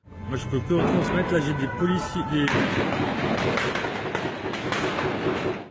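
Gunfire in the streets of Paris during a terror attack, caught on an amateur recording as a dense run of sharp cracks and bangs over steady background noise, with a voice talking underneath.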